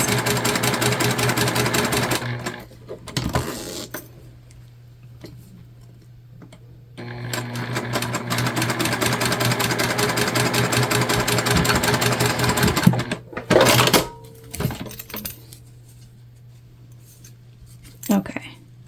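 A sewing machine bastes a pouch made from a fabric dish drying mat, its motor whirring steadily in two long runs with brief handling noises and pauses between.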